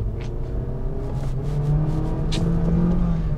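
A 2020 Honda HR-V 1.8 RS drives along under acceleration, its engine drone rising slightly in pitch as it pulls, steady and fairly close with no talking.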